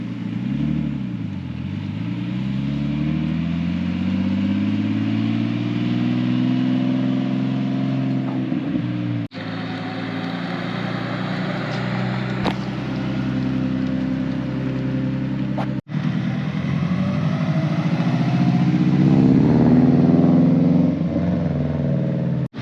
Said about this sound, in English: We've got a white R33 that's just going to come in now.